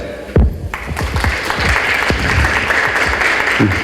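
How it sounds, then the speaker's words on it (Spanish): Audience applause welcoming a doctor speaking on stem cells at a cellular medicine talk, steady close clapping with a few sharp thumps, after a loud knock near the start. "un aplauso para él"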